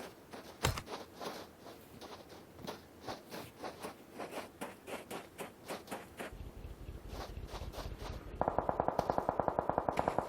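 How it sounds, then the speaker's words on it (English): Rapid gunfire in the battle game PUBG, a long run of evenly spaced sharp shots, close and fairly loud, shifting to a faster, brighter burst near the end. "Bayo firing off some shots now"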